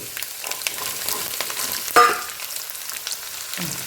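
Chopped ginger, garlic, green chillies and curry leaves frying in hot oil for homemade beef pickle, a steady close sizzle with one brief stirring clatter midway.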